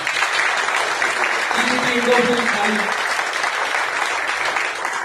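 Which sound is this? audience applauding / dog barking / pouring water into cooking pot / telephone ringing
audience applauding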